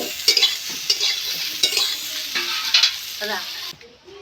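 Banana flower fritters frying in oil in a wok, a crackling sizzle broken by repeated stirring and scraping clatters, moderately close, ending abruptly near the end.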